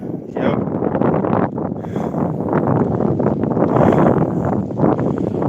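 Heavy wind buffeting a microphone, a continuous loud rumbling roar with gusty surges throughout.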